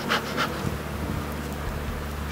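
Honeybees buzzing close around a hive frame in an apiary, a steady low drone with a few brief louder flurries of individual bees near the start.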